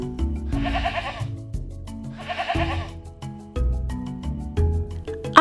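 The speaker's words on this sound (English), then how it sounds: "I see a fluffy goat looking at me." A goat bleats twice in an animated farm-animal story for children, two loud wavering cries a second apart over soft background music.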